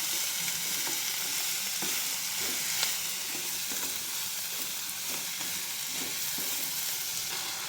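Spring onion stalk thoran fries and sizzles in a pan, stirred with a steady hiss and regular scraping strokes, close and alone with no talking.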